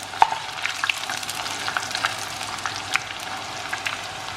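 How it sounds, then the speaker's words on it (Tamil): Sweet diamond cuts fry in very hot oil, a soft, steady sizzle with scattered small pops and crackles. "இந்த சூப்பர் ஹாட்டான ஆயிலில் இதை போட்டு ஃப்ரை பண்ணுவோம்."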